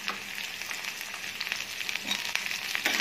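Boiled chicken pieces sizzle and crackle in a hot pan for chop suey, a close, continuous frying hiss with small pops and a few stirring sounds, no talking.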